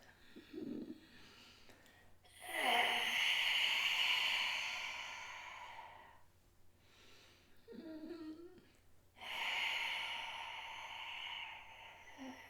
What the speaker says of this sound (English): you are just gonna rock and do the Darth Vader breath